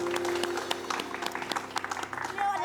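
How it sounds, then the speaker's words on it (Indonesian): A studio audience at a television talk show gives a short round of applause, with brisk clapping mixed with voices for a couple of seconds. "mohon izin tepuk tangan buat Ibu Cut Keke"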